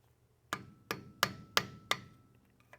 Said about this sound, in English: just take a hammer and a screwdriver, or if you have just the right type of socket, we'll kind of tap on this lip